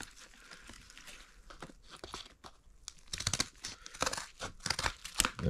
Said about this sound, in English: Well, let's get those scissors back.